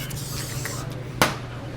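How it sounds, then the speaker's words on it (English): Pan release cooking spray shot onto a pan in one short, sharp hiss that fades quickly, set against a quiet kitchen hum. "I like to spray the pan with pan release spray."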